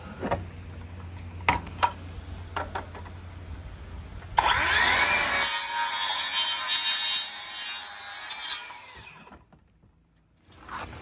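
A saw cuts through a 6x6 wooden post. Scattered ticks and knocks come first, then a loud, continuous cutting roar lasts about four seconds before winding down to quiet.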